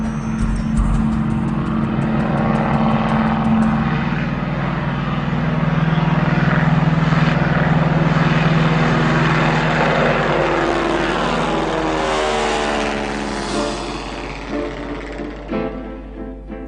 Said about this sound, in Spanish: Cuando este avión vuela y está lejos de las ciudades, estamos en 1928, nada marca el tiempo.